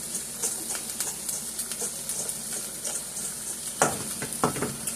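Meat fries in a pan alongside crispy fries for cheesesteak fries, a steady close sizzle and hiss with occasional scraping stirs of a utensil.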